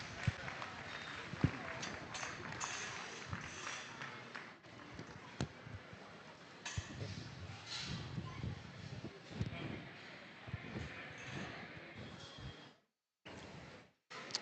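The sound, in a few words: audience applause at livestock show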